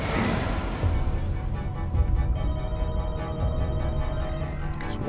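A telephone rings in The Walking Dead: Michonne video game, a loud, steady electronic ring over a dense musical and ambient backdrop, with no talk heard.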